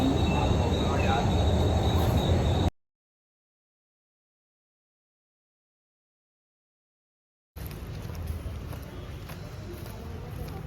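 Train carriages rumble along with rattling wheels and a steady roar, cut by several seconds of dead silence, with voices faintly underneath.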